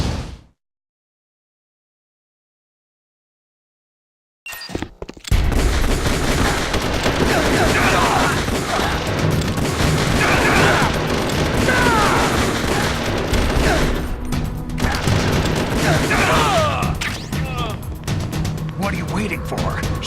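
Gunfire in the video game Metal Gear Solid: The Twin Snakes, a dense, continuous barrage of shots and crashes that starts abruptly after a few seconds of silence and stays loud and close, with voices mixed in.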